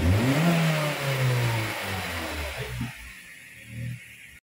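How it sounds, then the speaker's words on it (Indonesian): A Honda Freed engine just after a tune-up revs up quickly and loudly, then falls back toward a lower idle with a final small blip, heard close and alone. "Saat digas dia responnya naiknya cepat sekali."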